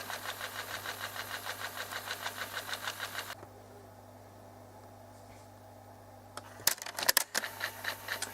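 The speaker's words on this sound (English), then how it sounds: "You can see me now struggling to fast wind, and as you can see the clutch is, well, it's just stopping it." A rebelted Kenwood X-SE7 cassette deck strains to fast wind a stiff tape while its clutch holds it back: a pulsing mechanical whir fades to a quiet hum, then sharp clicks of the transport.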